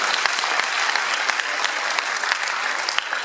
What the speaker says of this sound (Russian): аплодисменты нашему участнику!